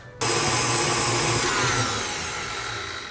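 An electric mixer switches on abruptly and whisks egg whites and sugar in a bowl for madeleine batter, a loud steady whirring drone with a high whine that eases slightly.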